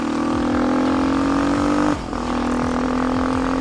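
Kayo K6 250cc motard motorcycle accelerating under its rider, a loud, close engine drone climbing in pitch with a brief dip partway through as the throttle eases, then pulling steadily again.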